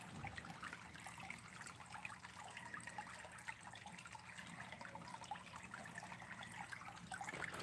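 Steady trickling water from a koi pond waterfall with goldfish and fancy-tail goldfish, a continuous soft splashing wash that stays even throughout, heard alone.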